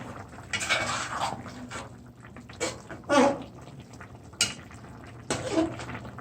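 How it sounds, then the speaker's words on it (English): A spoon stirring a pot of stewed chicken makes intermittent scraping, clanking strokes against the metal over a low simmering background, with several louder bursts spaced a second or two apart. "And you just want to stir your pot"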